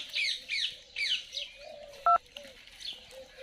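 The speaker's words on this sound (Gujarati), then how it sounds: "અને હવે કરું પાવળિયાની ફોન" Several short electronic beeps of a phone keypad being dialed, a quick tone standing out clearly among faint chirping sounds.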